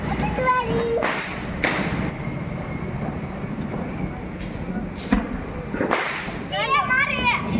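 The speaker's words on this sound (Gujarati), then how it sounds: "આ બધાય ભાઈ ફટાકડા ફોડે છે" Firecrackers burst during nighttime Diwali celebrations, with a few sharp, scattered bangs and cracks at varying distances while people talk throughout.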